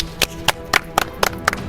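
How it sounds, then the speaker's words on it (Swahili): Hands clap in a brief, sparse run of about eight sharp claps at a steady rhythm, close and clear, in a comic skit. "Makofi."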